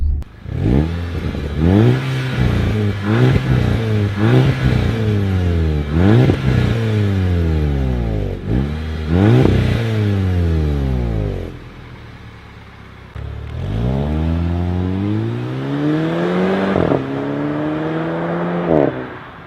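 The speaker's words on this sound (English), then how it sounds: "We'll get you guys a revving clip after this." A 2011 Volkswagen Golf GTI Mk6 engine revs up repeatedly, climbing in pitch with each push, loud and close, before a brief lull and more rising revs.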